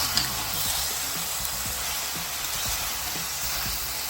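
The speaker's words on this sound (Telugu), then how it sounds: "ఇది ఒక టూ మినిట్స్ హై ఫ్లేమ్లో ఫ్రై చేసుకోవాలి" Minced mutton keema fries on a high flame with a steady, close hiss of sizzling fat, broken by light scrapes of the spoon stirring the pan.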